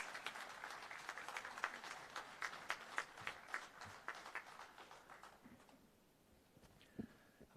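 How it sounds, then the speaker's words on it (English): Applause from a convention audience at an inaugural ceremony welcoming a speaker, many hands clapping briskly at moderate distance, then thinning out and fading to near silence with a last stray sound. "kindly welcome him with a big round of applause"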